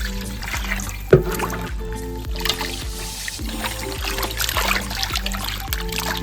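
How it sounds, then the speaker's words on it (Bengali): Water trickling and splashing while cut chicken pieces are rinsed by hand in a bowl, soft close sloshes with a sharp knock early on and small irregular drips throughout, no talking. "মাংস কেটে নিয়েছি, ভালো করে ধুয়ে নেবো এবারে।"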